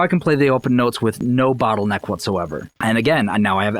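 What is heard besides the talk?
No distinct noise like a dog, phone or traffic.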